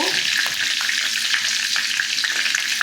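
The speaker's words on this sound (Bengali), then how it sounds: "ফোড়ন দিয়ে দিচ্ছি তেজপাতা চারটে শুকনো লঙ্কা দারচিনি" Whole spices, bay leaves, dried red chillies and cinnamon, sizzling in hot oil in a pan, a steady loud frying hiss with light crackles and stirring, no voices.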